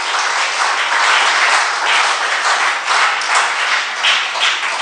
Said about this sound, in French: La parole de Dieu mérite des acclamations